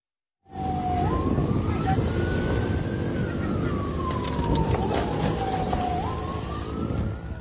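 Police siren during a car chase with a gangster group on a main road in Surabaya, East Java, a loud, close wailing tone that rises and falls over heavy traffic and engine noise.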